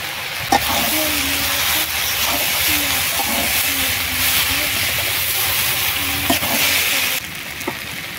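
Potatoes frying in a pan with turmeric and chili powder just added give a loud, continuous sizzle and hiss, with spatula stirring strokes scattered through and a brief sharp clack near the start.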